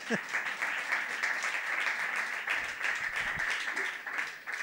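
Applause from the crowd at a stand-up comedy monologue contest, a continuous bed of clapping with a voice briefly breaking through near the start and again partway along.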